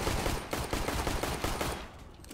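Rapid gunfire from a competitive shooter video game, a dense run of sharp shots packed close together at steady loudness before trailing off near the end, with no voices over it.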